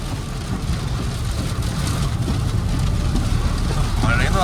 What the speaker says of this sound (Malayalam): മഴയെന്ന് പറഞ്ഞാൽ മാരക മഴ, ഒരു രക്ഷയില്ലാത്ത മഴ